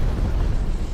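A loud, deep, continuous rumble from a napalm strike in Black Ops Cold War fills the whole second, dense and heavy with no distinct voices.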